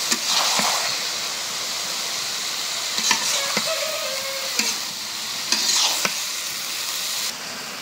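Potato and eggplant curry being stirred and fried in a pan, a steady loud sizzle broken by repeated spoon scrapes and knocks against the pan, close up, with a short squeak midway.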